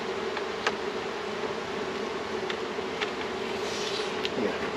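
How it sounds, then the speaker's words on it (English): Honey bees swarm during a honey harvest, a continuous droning buzz with individual bees whizzing past close by, steady and moderately loud with no talk. "Yeah, there are a ton of bees here."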